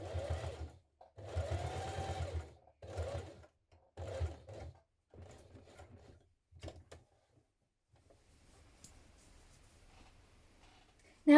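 A sewing machine stitches a blouse sleeve in six or seven short bursts of close, whirring stitching separated by brief pauses, then falls quiet for the last few seconds.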